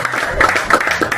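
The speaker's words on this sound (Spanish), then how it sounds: "Un aplauso grande, vamos todavía." Brief, close hand clapping in a quick, uneven rhythm from a small crowd at a lively Spanish-speaking gathering.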